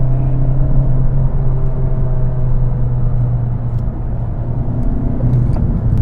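A Honda Civic Type R front-wheel-drive hot hatch driving in R mode, with a steady low engine drone and road rumble heard from inside the cabin.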